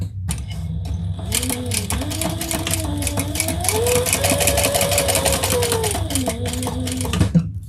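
A sewing machine top stitching leather, its motor whirring in a steady run that speeds up and slows, with rapid needle clatter throughout, close by.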